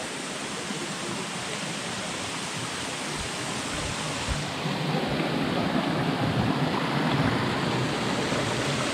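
Water pouring from the temple fountains at Muktinath in Mustang, Nepal, making a continuous, close rushing hiss that grows a little louder partway through.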